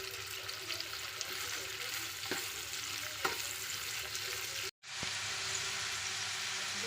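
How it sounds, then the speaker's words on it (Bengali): Green beans frying in oil in a kadai with a little salt while being stirred, a soft, steady sizzle with a few spatula scrapes and a brief dropout near the end. "বিনসটা অল্প অল্প ভাজা হয়ে এসছে"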